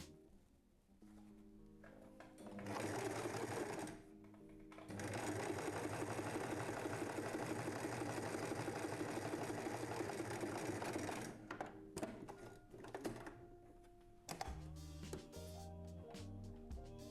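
A sewing machine hums steadily while stitching the side seam of a summer dress, running in long continuous bursts with brief pauses and a few short start-stop runs toward the end.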